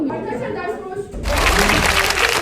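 A short, dense burst of clapping breaks out right after a few seconds of casual talk and keeps going loud to the end, at the opening of a messy group vlog.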